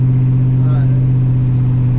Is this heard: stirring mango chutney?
no